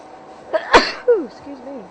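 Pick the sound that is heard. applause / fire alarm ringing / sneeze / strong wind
sneeze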